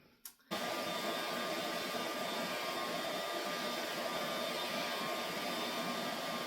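Dog grooming vacuum clippers switching on after a brief click and rustle, then a steady, loud whirring drone with a constant high whine that runs evenly to the end, close and with no talking.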